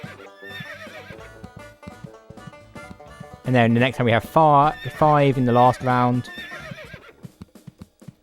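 Video game horse from Animaniacs: The Great Edgar Hunt gives a loud, bright, whinnying neigh in several bursts mid-clip, with a voice talking over the game audio before and after.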